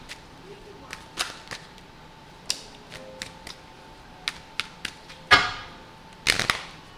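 A series of sharp, crisp clicks and riffling snaps as tarot cards are shuffled, irregularly spaced, ending in a denser flurry of card-like flicks close by.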